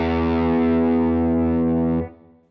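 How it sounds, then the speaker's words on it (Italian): A Tube Screamer overdrive on its own, running on a Fractal Axe-FX, holds one loud, gritty, steady sustained note for about two seconds and then decays quickly into a faint tail. No one speaks. "Questo in sostanza è il suono del solo Tube Screamer."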